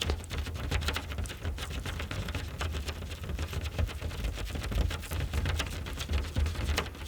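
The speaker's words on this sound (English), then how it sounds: "And then it starts just gently raining on the tent." Steady light rain patters on a taut tent, dense and even, with soft drops ticking close by and no voices.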